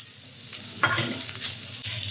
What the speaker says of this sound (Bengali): রসুনটা একটু ভালো মতো ভেজে নিতে হবে